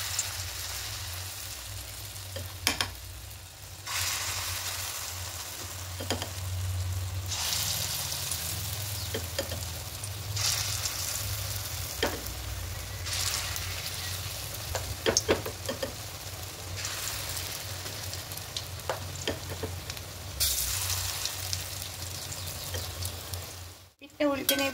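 Masoor dal fritters frying in hot oil in a kadai, a steady bubbling sizzle that swells in bursts as pieces are added, with occasional clinks of a utensil and a sharp knock near the end.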